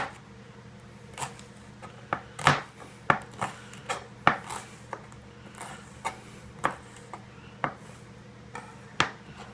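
A knife slicing a bell pepper into strips on a cutting board, a dozen or so crisp, irregular chops with short pauses between, close and clear, with no talking.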